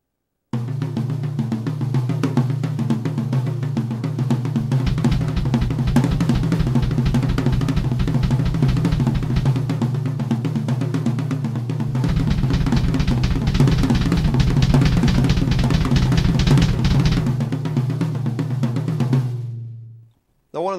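Double bass drum kicks played as rapid triplets and then shifting to four-note groupings, a dense, fast, even low thumping that runs loud and steady on its own before stopping abruptly.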